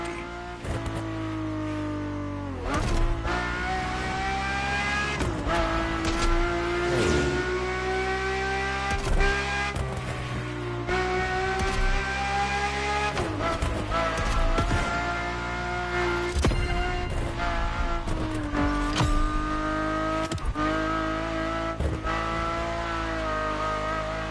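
A Ferrari F40 and a Ferrari F50 driving, a loud close engine drone with strong revs, gear changes and repeated sharp shifts over a sustained roar.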